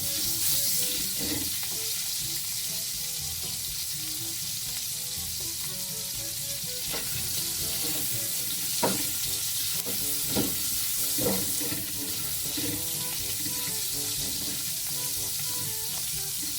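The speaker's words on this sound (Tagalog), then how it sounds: "Dahil tayo po ay magigisa na ng ating mga recados. Nalagay na po natin itong ating bawang" Garlic sautéing in a pan for a vegetable soup, a steady broadband sizzle that runs for the whole stretch, with occasional stirring scrapes and clinks over it, close and moderately loud, no talking.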